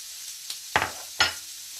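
Chopped onions hitting a pan of hot butter, giving two short bright sizzling bursts close by that quickly settle into a low hiss, with no talking.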